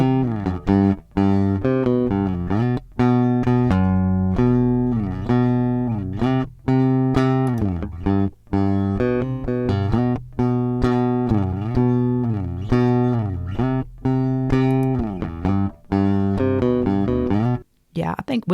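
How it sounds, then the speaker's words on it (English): Sustained bass guitar notes played one after another through an Eventide SplitEQ, bypassed then engaged, deep and resonant, with a short break near the end before playing resumes. "let's do one final check on this bass guitar"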